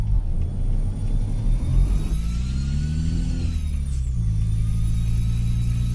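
Truck engine in Euro Truck Simulator 2, a loud low rumble whose revs rise and then drop as the Jake exhaust brake holds, droning steadily without any voices.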